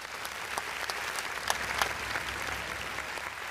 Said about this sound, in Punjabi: ਜ਼ੋਰਦਾਰ ਤਾੜੀ ਆਪਣੇ ਨਾਮ ਦੀ।